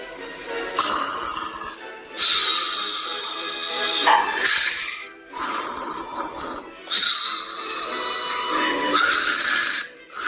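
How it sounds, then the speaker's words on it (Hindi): A cartoon wolf snores loudly in long, rasping cycles, about five drawn-out snores separated by brief pauses. The snoring is close and dominant, with no talking. "ये तो बड़े जोर से खराटों की आवाज आ रही है"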